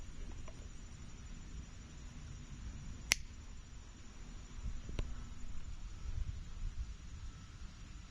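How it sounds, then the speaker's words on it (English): Two sharp finger snaps, a few seconds apart, over a quiet background hiss in a workshop where a Dodge Sprinter engine is being repaired. "All you have to do is snap your fingers and you'll be at the next step"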